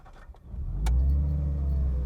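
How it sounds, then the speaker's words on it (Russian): A GAZ-24 Volga fitted with Nissan components cranks and fires up, a short starter whir giving way to a steady, loud idle with deep low rumble that settles and holds. "Так, мотор завели, уже неплохо."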